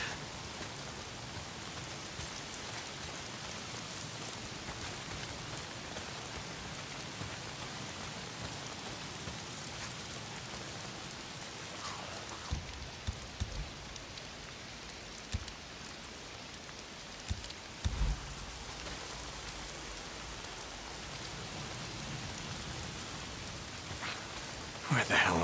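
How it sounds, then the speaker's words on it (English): Rain falls in the video game Days Gone, a steady, even hiss of heavy downpour that holds for the whole stretch, with a few brief louder knocks near the middle and end. "If it's not the freaks, it's the goddamn rain."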